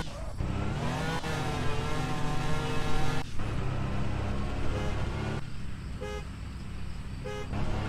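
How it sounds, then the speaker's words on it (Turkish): A car horn honks amid engine and driving noise in the video game Car For Sale Simulator 2023, with a short tonal toot standing out near the end over a continuous loud vehicle drone. "Korna bir de rötarlı ötüyor."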